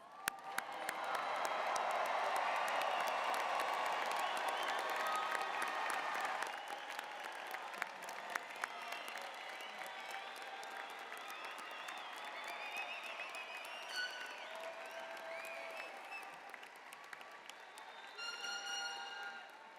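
Graduates at a spring convocation ceremony receive a long round of audience applause, dense and loud at first, then thinning into scattered clapping with a few faint cheers and voices in a large hall.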